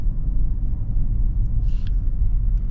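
Steady low road rumble inside a moving 2025 Toyota Sequoia TRD Pro riding on 35-inch tires, a constant broad drone of tire and road noise with a faint brief higher tone partway through.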